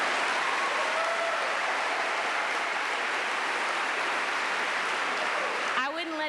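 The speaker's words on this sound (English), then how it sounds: "you want to clap?" Warm audience applause for a pianist at a Christmas keyboard concert, a dense, even wash of clapping that stays loud throughout before a voice starts speaking as it tails off.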